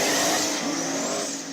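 A race car makes its third-round run, a loud, continuous engine roar with a high whine that shifts in pitch as it passes close by, with no voices.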